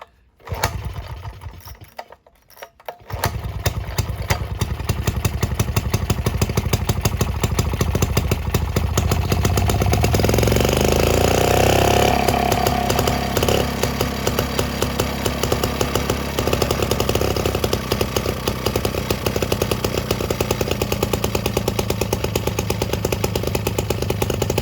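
Villiers Marvil two-stroke engine running at its first start in over six years: after a few sputtering attempts it catches and settles into a loud, steady, rapid buzzing idle that lasts to the end.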